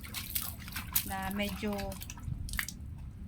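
Rainwater drips steadily into a household tub, close and fairly quiet, with a person speaking over most of the dripping.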